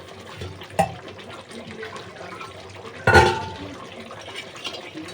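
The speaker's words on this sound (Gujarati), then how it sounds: "અને હવે થોડુંક આપણે પાણી ખાલી એડ કરીશું" Water is poured into a pan of desi chicken curry, a soft sloshing under a low background, marked by two sharp splashing bursts, the second louder and longer.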